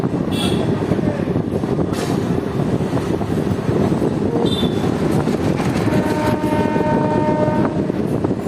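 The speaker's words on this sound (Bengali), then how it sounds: "খুব সুন্দরভাবে যাচ্ছে আমাদের ট্রেন" A train runs along the Amghata line in West Bengal on an inaugural special journey, giving a steady loud rolling rumble with rail clatter throughout, a short high squeal near the middle and tonal horn-like whines toward the end.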